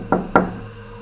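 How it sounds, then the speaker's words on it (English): Two loud, sharp knocks on a door, a quarter second apart, ring out close in a quiet room in a horror short film, with no voices. "There's a loud knock at the door."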